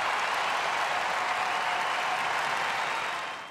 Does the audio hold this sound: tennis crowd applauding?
yes